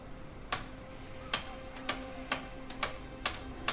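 A hammer strikes in the video game A Way Out, with about seven sharp, evenly spaced metallic taps ringing out clearly against a quiet background.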